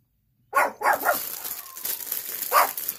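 Several dogs bark indoors in a quick cluster of sharp barks, then a single bark follows after a pause, moderately loud against a quiet room.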